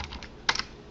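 Short bursts of typing on a computer keyboard, a few soft taps followed by a louder cluster of keystrokes, close and alone without talk.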